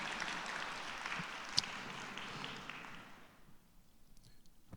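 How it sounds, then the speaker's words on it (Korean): A church congregation claps in a full, even round of applause that fades out after about three seconds, leaving a quiet room. "우리 하나님께 영광의 박수 한번 보내"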